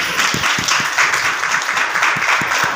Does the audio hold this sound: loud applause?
yes